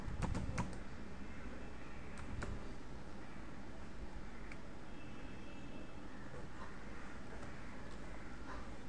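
Fingers type on a computer keyboard, a few sharp clicks early on, then sparse faint taps over a steady background hum.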